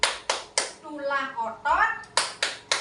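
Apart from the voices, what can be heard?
hand clapping in a children's clapping song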